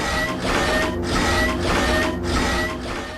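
Mecha Ridley, the robot boss in Metroid Zero Mission, gives off a loud, continuous mechanical grinding and rumbling in a dark room. It swells and dips in rough pulses about every second.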